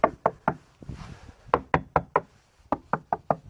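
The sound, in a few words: tapping on a Tartan 27 sailboat deck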